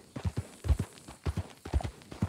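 A horse's hooves clip-clop in Red Dead Redemption 2, a steady walking rhythm of soft thuds close by, quiet and unaccompanied by talk.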